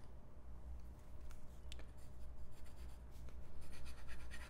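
Folded-nib fountain pen writing on paper while testing Sailor ink, with soft close scratchy strokes and a few sharper ticks over a low steady hum.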